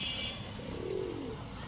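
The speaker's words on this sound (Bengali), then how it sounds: "এখন দেখাবো 1 জোড়া আর্মি কবুতর" A pair of army pigeons, male and female, coo softly at close range, with a low throaty warble rising briefly in the middle over steady background hiss and no one speaking.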